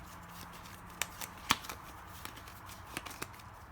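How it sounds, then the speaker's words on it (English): A deck of cards is shuffled during a solo tabletop game of Flamme Rouge, with crisp riffling snaps and soft shuffling clicks at an uneven rhythm, close and fairly quiet. "I'm gonna shuffle the deck here."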